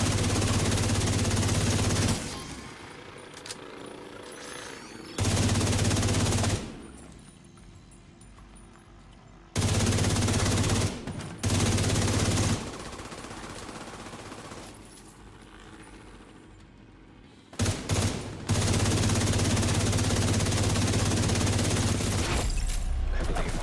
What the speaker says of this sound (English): Bullets again.